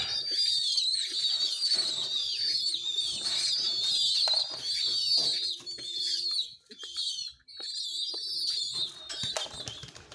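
Young pigeons around 25 days old, feeding on corn, give repeated soft cooing and chirping calls that go on steadily throughout, close by with no talking.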